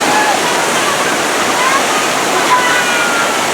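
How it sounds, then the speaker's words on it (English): Waterfalls at the Thunder Canyon white water ride at Dorney Park, a steady loud rushing roar of falling water with no breaks, close and continuous. "You got all these waterfalls."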